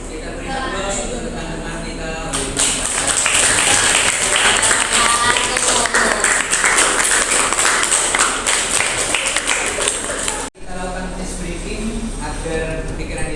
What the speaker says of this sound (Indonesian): Kita beri aplaus untuk teman-teman kita